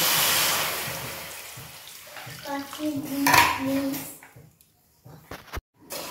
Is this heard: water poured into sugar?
yes